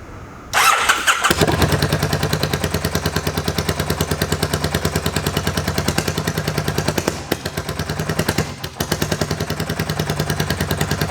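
An auction motorcycle, its carburetor freshly cleaned, cranks and catches, then settles into a loud, close, steady putter with a rapid even rhythm and a brief stumble near the end.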